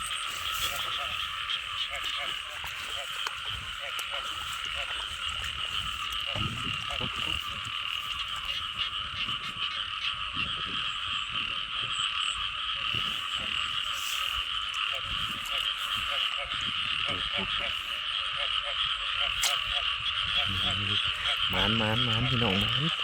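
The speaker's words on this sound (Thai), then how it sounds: "ได้อีกแล้วพี่น้องได้กบอีกแล้ว" A dense chorus of frogs croaks continuously during a night frog hunt in a rainy season. The loud, pulsing calls go on unbroken throughout the clip, with some faint background noise.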